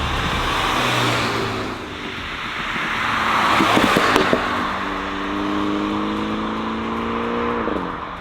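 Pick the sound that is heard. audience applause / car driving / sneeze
car driving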